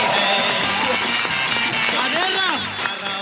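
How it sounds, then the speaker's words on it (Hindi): Studio audience on a Hindi comedy talk show applauds for Shreyas, a dense, loud burst of clapping and crowd noise with voices and music mixed in throughout. "श्रेयास के लिए एक बार जोरदार तालियां"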